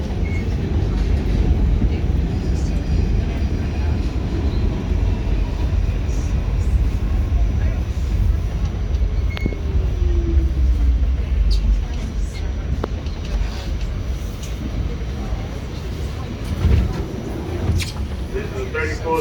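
An R46 subway car on the W line rides from 34th Street Herald Square toward Times Square with a steady, heavy low rumble of wheels and car noise, with faint voices in the carriage.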